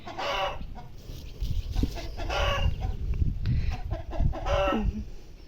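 A rooster crows loudly and repeatedly nearby, with hoarse calls and clucking between them and no talk.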